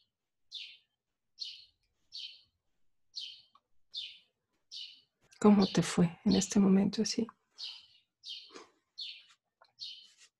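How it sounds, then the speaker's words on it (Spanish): Little birds chirp in short, regular bursts throughout, a steady series of bright tweets that carry on around a stretch of people talking in the middle. "A mí estaba escuchando los pajaritos, los gallos."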